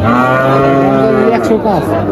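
A Sahiwal cow at a cattle market in Faridpur gives one long, deep moo up close, with faint background noise around it.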